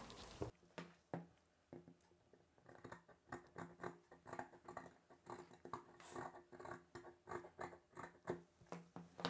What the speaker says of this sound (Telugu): ఇలా ఈ రౌండ్ తిరిగే దగ్గర పై వైపున మాత్రం 1 ఇంచ్ ఉండేలా మార్కింగ్ చేసుకున్న ఈ పీస్ని కట్ చేసుకోవాలి.